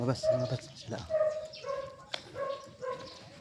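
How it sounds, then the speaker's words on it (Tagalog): A small dog whines and yips in short, high bursts, close by, with a person speaking softly between the sounds. "Ang ganda ng aso."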